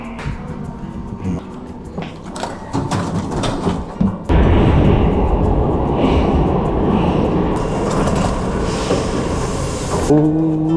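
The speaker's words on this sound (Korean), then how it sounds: "오랜만에 타는 파리의 지하철 감성" A Paris metro train rumbles loudly along the tracks with a steady roar, rattles and clanks, then brakes squeal near the end; no speech.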